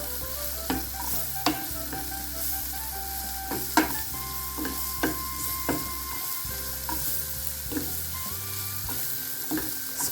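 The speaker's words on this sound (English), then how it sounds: "we're going to add our chopped onion to the pan" Chopped onion frying in a pan while being stirred into a spice mix, a steady close sizzle punctuated by regular scraping knocks of the spoon against the pan, with soft background music underneath.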